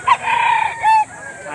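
A five-month-old white hatch rooster at the Lipa auction market in the Philippines gives a loud, drawn-out crow with a sharp opening note, heard up close with no talking over it.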